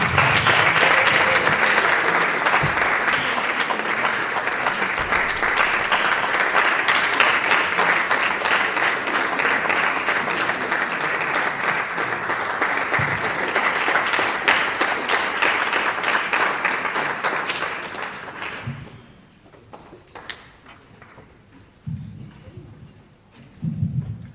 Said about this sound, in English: Let us clap until we reach the podium.